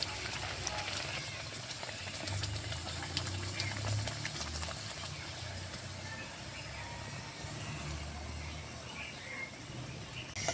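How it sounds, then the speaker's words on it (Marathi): Spinach puri deep frying in hot oil, a steady soft bubbling and sizzling hiss that carries on evenly and fairly quietly throughout. "हे बघा आपली पुरी कशी छान तळली"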